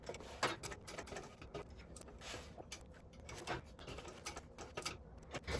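A sewing machine stitching slowly around the corners of a Windsor bag, making quiet, uneven bursts of mechanical clatter with short pauses between stitches.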